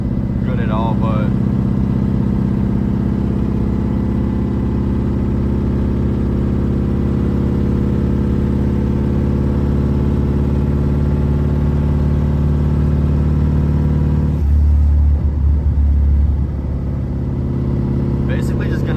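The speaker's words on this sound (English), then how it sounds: "Car's a straight pipe 4-cylinder with a auto zone muffler on it" A BMW E36 with a straight-piped four-cylinder engine and an AutoZone muffler drones steadily while driving, with a loud, low exhaust rumble heard from inside the car. A short burst of extra rumble comes near the end.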